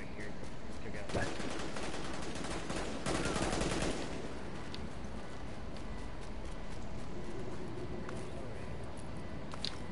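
Bursts of automatic AK rifle fire from the video game Tom Clancy's The Division, Dark Zone, crackle in rapid clusters near the start and middle, with people talking over the action.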